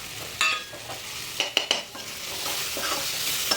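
Spice masala sizzles in melted oil in a pan, a soft steady hiss with a few sharp clinks and scraping stirs of a spoon against the metal, close and moderately loud, no voices.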